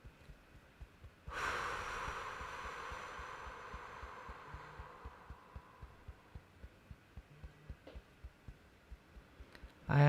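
A single long, deep inhaled and exhaled breath, close and soft, swells and slowly fades over several seconds above a steady, low rhythmic pulse like a heartbeat.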